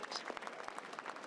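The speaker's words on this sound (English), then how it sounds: "Round of applause, everyone." Audience applause at a panel at Nostalgia Con Houston 2025, a steady patter of clapping from a mid-sized crowd at moderate distance, continuous and fairly even through the short stretch with no voices over it.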